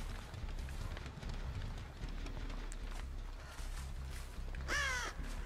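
A crow caws in the horror video game Dead by Daylight, a single loud harsh call near the end over a steady low game ambience.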